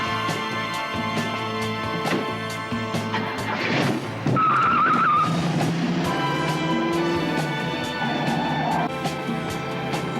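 A car speeds off after being stolen during a police alarm, its tyres squealing in long skids with a revving engine that fades and returns.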